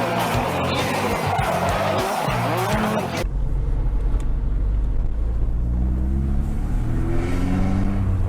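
A Renault Clio 2 RS 182 engine roars and revs hard up close, then drops to a lower, steady rumble that climbs in pitch as it accelerates.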